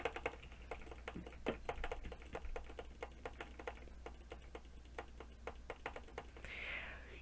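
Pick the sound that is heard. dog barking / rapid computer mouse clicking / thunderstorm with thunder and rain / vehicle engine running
rapid computer mouse clicking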